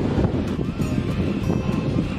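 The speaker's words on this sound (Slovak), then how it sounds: "Sa fúka a je tu hluk, tak ma asi nebude počuť." Gusty wind blows across the microphone outdoors on a cowboy trip, a steady rough roar of buffeting noise with no clear voices.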